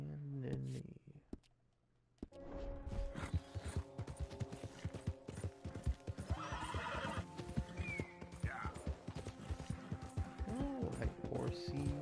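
A horse whinnies loudly and its hooves clip-clop in a quick rhythm in Red Dead Redemption 2, following a brief near-silent gap, with game ambience and a voice talking over the ride.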